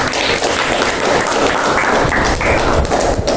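Applause from a classroom audience after a student group's presentation, dense and steady clapping at close range, continuing without a break for the whole stretch.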